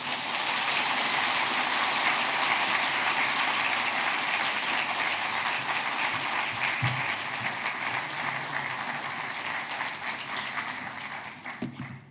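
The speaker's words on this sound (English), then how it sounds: "Please join me in warmly welcoming Professor Michael Levitt to the stage" An audience in a lecture hall applauds steadily to welcome Professor Michael Levitt to the stage. The dense clapping sounds like rain and stays loud and even for about twelve seconds before tapering off at the end.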